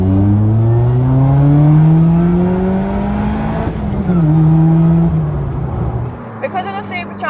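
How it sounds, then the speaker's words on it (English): A light supercharged Lotus Elise with a small engine accelerates hard, its engine note rising steadily through the gears with a brief dip at a shift, loud and close, before easing off at the end. "This car, it's so light but so little power, but still the acceleration will blow you away."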